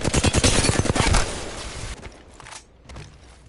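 Flatline assault rifle in Apex Legends firing a fast automatic burst of close, loud rapid shots for about a second and a half, then a trailing echo and a few faint thumps.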